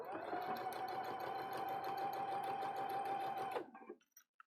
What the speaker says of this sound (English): Drop your presser foot, drop your needle, and you're going to sew about 2 inches.